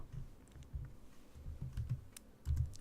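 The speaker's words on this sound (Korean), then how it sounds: "숫자를 클릭한 후 숫자 입력하고 엔터." Quiet, close clicks of a computer keyboard as a number is typed and the enter key pressed, a short irregular burst of soft keystrokes with a slightly firmer final press.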